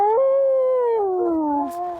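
A sled dog in Kamchatka lets out one long, close, loud howl lasting about two seconds, its pitch wavering and sliding downward near the end.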